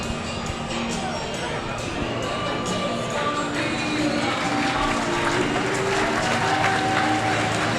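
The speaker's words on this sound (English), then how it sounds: "you can probably hear the crowd are up for that one" Crowd at a Poole Pirates speedway Knockout Cup meeting roaring and cheering after Richard Lawson wins heat 1, a dense, sustained wall of noise with applause and babble throughout.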